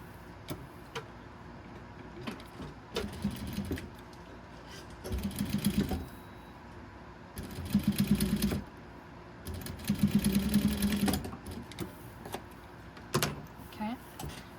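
A home sewing machine stitches a minky cow stuffed toy in several short bursts of whirring, separated by quieter pauses and handling clicks.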